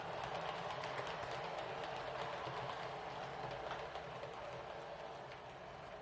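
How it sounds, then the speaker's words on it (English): A model 117 DMU pulls away along the track with a low steady rolling rumble and light rail clatter, heard close, fading slightly toward the end, with no voices. "the train is moving off"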